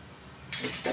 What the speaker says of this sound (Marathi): त्याच्यामध्ये मी 1 चमचा बडीशोप टाकते